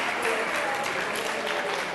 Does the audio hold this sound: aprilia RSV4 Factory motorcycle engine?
no